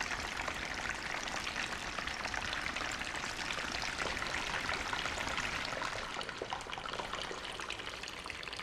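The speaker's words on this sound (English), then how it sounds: "Sounds more like rain." A granular synth patch on an iPad running FRMS gives a dense, steady hiss of tiny grains like falling rain, even and continuous throughout with no voices.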